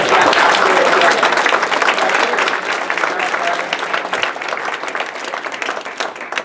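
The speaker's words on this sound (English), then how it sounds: "Big round of applause." Sustained audience applause at a tax sale investing seminar in Lake County, Indiana, loud and dense at first, then easing slightly but continuing steadily to the end.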